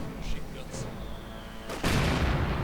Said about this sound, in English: a quick rifle grenade in this case